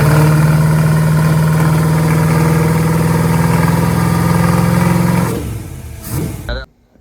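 A 427 Cobra's V8 engine runs with new injectors, a loud steady low rumble that holds for about five seconds before shutting down and falling quiet.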